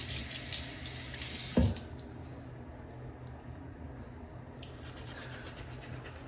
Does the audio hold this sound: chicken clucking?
no